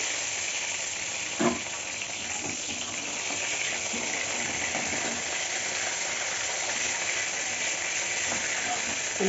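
Pieces of pointed gourd fry in hot oil with a steady, soft sizzle, and a single clink of a utensil early on.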